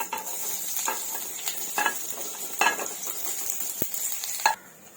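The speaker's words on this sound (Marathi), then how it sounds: "मी थोडस तेल टाकून ना आता मी कांदा भाजून घेते कांदा टाकून घेते" Chopped onion frying in a little oil in a pan for a spicy drumstick and potato curry, giving a steady close sizzle broken by several stirring scrapes and taps against the pan.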